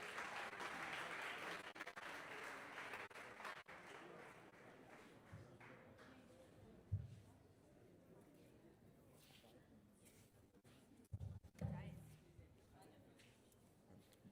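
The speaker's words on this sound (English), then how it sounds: "Please, let's clap for him." A hackathon audience at a Ghana cocoa innovation event claps at moderate level, the applause thinning out after a few seconds into a quieter room with scattered taps and brief noises.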